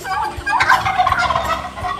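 Male turkeys gobble repeatedly in rapid, warbling bursts, close by and fairly loud, with several calls overlapping across the stretch.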